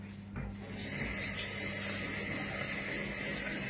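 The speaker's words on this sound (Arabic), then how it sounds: "تصبوا ماء" Water runs steadily from a tap into a container for a lemon cake decoration, starting after a brief quiet moment and holding as a constant close rush with no talk.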